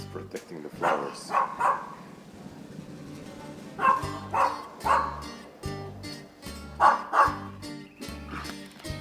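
A dog barks repeatedly in clustered bursts of two or three, fairly close and loud, with short pauses between volleys.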